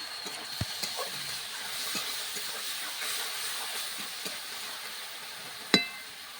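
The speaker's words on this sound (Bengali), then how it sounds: "মশলা কষানোর জন্য সামান্য জল দিয়ে দেব।" Spices sizzle with potatoes and wild mushrooms after a splash of water goes into the pan, giving a steady close hiss of steam throughout. Light clinks of a utensil come in a few times, and one sharp knock lands near the end.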